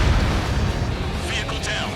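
Bombs from an aircraft exploding on ground vehicles in the video game Ace Combat 7, a loud, dense series of rumbling blasts and crackling bursts layered over each other for about two seconds.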